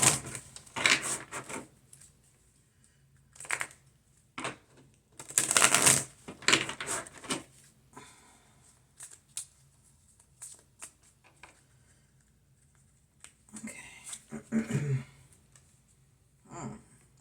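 A Mary-Day Tarot deck being shuffled by hand, with close, crisp bursts of riffling and card slaps separated by brief quiet pauses.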